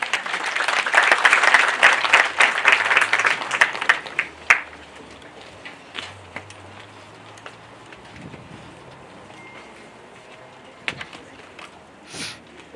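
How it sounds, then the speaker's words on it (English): Loud audience applause at an outdoor street-naming ceremony in Windhoek honoring Botswana's founding president, a dense burst of clapping lasting about four seconds before fading into quiet wind noise and scattered faint sounds. "Please give her another round of applause."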